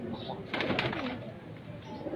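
Pigeons on a rooftop loft coo softly, with a short burst of wing flutter or movement near the middle and a low murmur of background activity.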